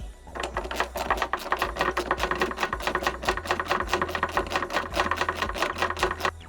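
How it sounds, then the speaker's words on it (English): A ratchet tightens the 1/2-inch bolts on a Jeep Gladiator tonneau cover, giving rapid, evenly spaced clicks that run continuously at close range. "we'll go ahead and tighten down those 4 bolts"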